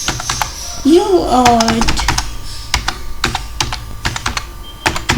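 Rapid, irregular clicking of computer keyboard keys as code for a UART routine on an Arm Cortex M4 is typed, with someone talking over the keystrokes throughout.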